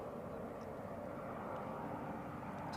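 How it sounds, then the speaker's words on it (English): A noisy airplane passes near Edinburgh airport, a steady, broadband engine roar heard at a distance, faint and continuous with no clear rise or fall. "It's quite noisy plane."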